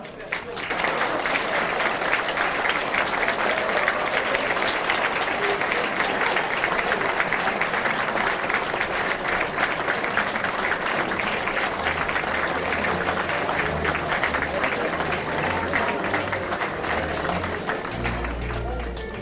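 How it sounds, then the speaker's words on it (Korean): A large crowd at a Korean political party founding rally claps and cheers loudly and continuously as two leaders enter, with low rhythmic drumming rising near the end. "두 분이 입장하실 때 여러분 큰 함성과 우리와 같은 박수를 보내주십시오."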